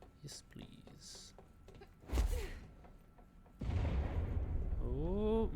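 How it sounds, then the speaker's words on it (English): Explosions in the video game Control, booming low thuds and crackling blasts that come in a couple of bursts, with someone talking over them. "Oh, more explosions."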